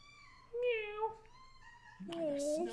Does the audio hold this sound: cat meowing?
yes